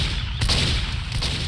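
Sniper rifle shot in Team Fortress 2 during a UGC Highlander match, a loud sharp gunshot crack that booms briefly, followed by another hit-like impact over continuous dense game noise.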